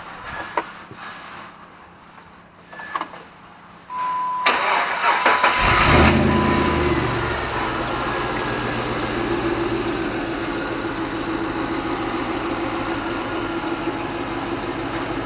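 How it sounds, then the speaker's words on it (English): A dead-battery Jeep engine cranks and fires at about four seconds, then catches and settles into a steady, loud idle that runs on alone to the end. "Now this Jeep had the battery dead. I'm going to fire it up"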